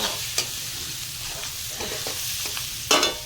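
Meat cooking and being stirred in a pan on a large gas stove in a home kitchen, with a steady close sizzle under intermittent scraping stirs and a louder clatter near the end, no talking.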